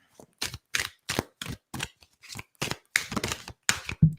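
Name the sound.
light shuffling of a deck of cards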